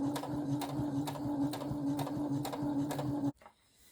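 Sewing machine stitching a narrow understitch line along a round neck facing, rapid steady mechanical chatter with a regular pulsing rhythm, close and clear, stopping abruptly near the end.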